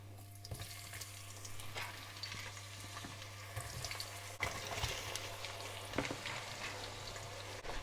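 Whole spices frying in hot oil and ghee for biryani give a steady, close sizzle with a few stirring scrapes, over a constant low hum.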